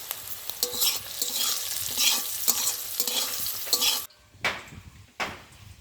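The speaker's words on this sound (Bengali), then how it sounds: "পটলটা ভালো করে তেলে ভেজে নিয়ে তুলে রাখবো।" Salted pointed gourd frying in oil in a pan gives a close, bright sizzle with rhythmic stirring scrapes, then cuts to near silence broken by two brief bursts of sizzle.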